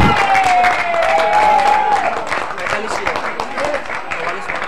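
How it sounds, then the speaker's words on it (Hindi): Applause and crowd noise rise from spectators at a local premier league cricket match after a catch, loud and sustained, with a whistle or tonal call near the start. "तालियां बज रही है"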